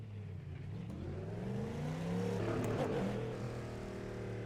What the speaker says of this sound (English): you can hear the combustion side and the rumbles of the engine already